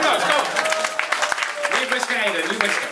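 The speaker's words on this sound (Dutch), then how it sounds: "Applaus, kom." A live literary-event audience breaks into dense, steady applause filling the hall, with a voice talking over the clapping throughout.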